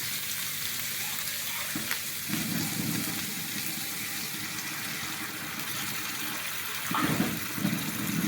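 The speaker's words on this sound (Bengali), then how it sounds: "মশলাটার মধ্যে তেল উঠে গেছে, এবার আমি জল দেবো" Water splashes into hot oily masala for a katla fish curry (macher jhol), setting off two bursts of sputtering sizzle over a constant low frying hiss, close by and with no talking.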